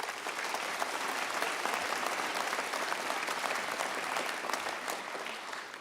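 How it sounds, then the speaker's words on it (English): An audience at a police academy graduation gives sustained applause, a thick, even roar of many clapping hands with no break and no voices on top. "Can we get another round of applause for everyone?"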